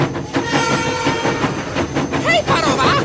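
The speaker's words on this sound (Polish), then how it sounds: "Jedzie pociąg, parą napędzany." Steam locomotive sound effect running loud and steady with rhythmic chugging and wheel clatter, then sharp whistle-like squeals rising near the end, all close and continuous.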